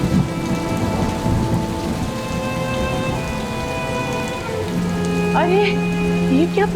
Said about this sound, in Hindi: या अल्लाह, इतनी तेज बारिश।